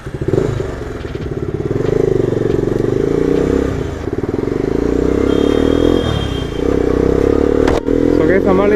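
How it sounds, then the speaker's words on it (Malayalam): A modified Bajaj Pulsar 220 motorcycle engine runs steadily with a loud, throbbing low rumble and slight rises in revs, close up, while a person talks over it. "നമ്മൾ ഈ 220 ഒന്ന് ഓടിച്ചു നോക്കാൻ എടുത്ത്"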